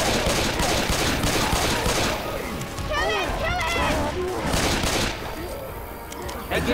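Chaotic gunfire in Left 4 Dead 2 as survivors shoot at the Tank, a dense continuous barrage mixed with crashes and shouting voices over a loud, busy game scene.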